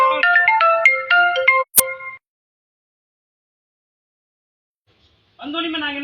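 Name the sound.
phone ringing while calling the police emergency number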